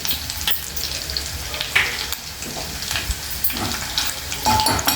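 Tomatoes sizzling and frying steadily in a pan with ginger paste and turmeric for a cashew tomato curry, a continuous close crackle with occasional stirring scrapes.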